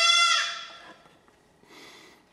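A loud, close bleat from a pregnant goat with a falling pitch, followed by a fainter, shorter bleat after a brief pause.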